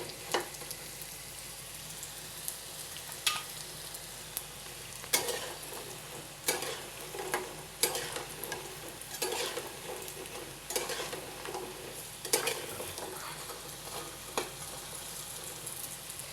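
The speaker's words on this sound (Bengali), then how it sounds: "এই তো দেখেন পিঠাগুলো আমার কত সুন্দর ভাজা হয়ে যাচ্ছে।" Colourful jhinuk pitha, shell-shaped Bengali rice cakes, fry in hot oil: a continuous sizzling hiss punctuated by sharp, irregular clinks and scrapes from a spatula stirring the pan, heard close.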